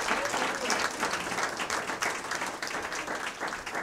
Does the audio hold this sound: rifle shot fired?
no